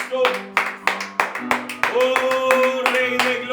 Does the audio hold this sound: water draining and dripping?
no